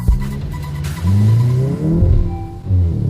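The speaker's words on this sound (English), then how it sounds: "Wheel spin." A damaged Volkswagen Golf 8 GTI with a bent front left rim spins its wheels while accelerating. The engine revs loudly and up close in two or three hard surges with brief lifts between them.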